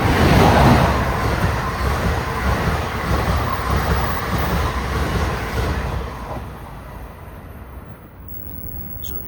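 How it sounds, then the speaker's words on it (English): An express train hauled by an ACS-64 electric locomotive with older passenger cars roars loudly through a station, a steady rushing rumble that holds for most of the pass before easing off near the end. "Here comes another express train."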